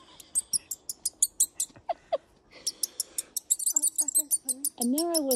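A man imitates a duck call with his mouth, giving a rapid series of short squawking and quacking bursts outdoors, broken by a brief pause, then a longer rising, warbling honk at the end.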